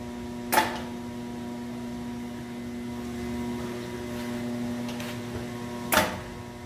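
Web handling machine fitted with Adjusta-Pull anti-wrinkle rollers running slowly, giving a steady low mechanical hum with two brief sharp clicks or knocks, quiet and without talk.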